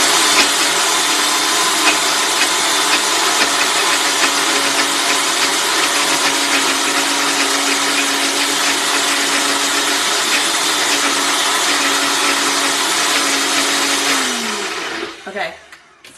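A blender creaming a cup of cottage cheese runs loud and steady for about fourteen seconds with a constant whirring motor tone, then winds down and stops near the end.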